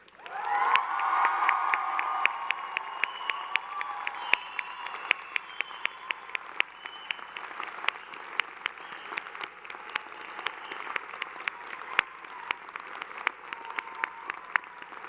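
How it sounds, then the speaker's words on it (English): Large convocation audience at the UOIT 2014 ceremony breaking into loud cheering and whooping that settles into sustained clapping, a dense wash of hands filling a big hall. "I'd like a really big thank you, clapping, yelling from you guys"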